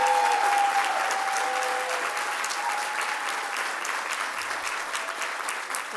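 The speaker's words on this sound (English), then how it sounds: "Can we please give a round of applause to Habiba for her 22 years of service?" Steady applause from a sizable crowd at a youth justice event, dense clapping that holds evenly for several seconds before tapering slightly.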